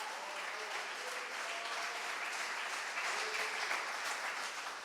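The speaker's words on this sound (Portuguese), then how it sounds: "Aplauda o nome do Senhor" A church congregation applauds during a night vigil service, a steady wash of clapping filling the hall throughout, fairly distant and even, with no voices standing out.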